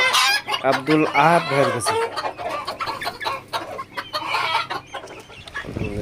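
White Cochin bantam chickens, one rooster and three hens, cluck and squawk up close in repeated bursts while someone speaks over them.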